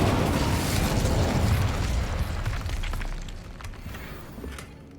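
The Incendio fire spell goes off in Hogwarts Legacy as a loud, whooshing burst of flame that fades over a few seconds, with crackling pops trailing off.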